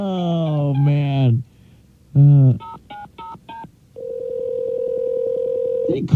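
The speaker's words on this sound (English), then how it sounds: "All right, Sully, let's give a call again." A telephone line plays a dial tone and then a few single-frequency dialing beeps, followed by a steady ringback-style tone. Voices speak loudly over the early part.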